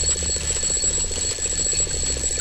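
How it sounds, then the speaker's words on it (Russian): An electronic alarm clock in the Roblox game Doors rings with a steady, rapid pulsing beep that repeats without a break over a low background hum. "Так, звенит будильник."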